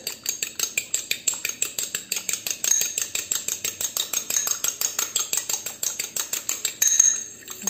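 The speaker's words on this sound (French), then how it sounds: "vous mélangez bien et vous mettez ça sur votre galette" Rapid, steady clinking of a fork whisking an egg with pepper and salt in a bowl, a fast rhythmic tapping that runs close and continuous with no talking.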